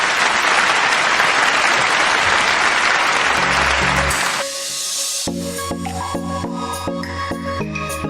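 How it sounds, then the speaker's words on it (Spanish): A forum audience gives loud, dense applause for a panel, filling the first four seconds before cutting abruptly, after which music with a steady beat takes over. "Un fuerte aplauso, por favor,"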